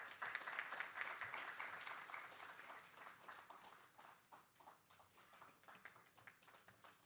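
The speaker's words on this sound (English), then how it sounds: "can we all join in to welcome him with a huge round of applause?" Audience applause welcoming a speaker at the inaugural session of a manufacturers and exporters summit; steady, fairly distant clapping that slowly thins and fades.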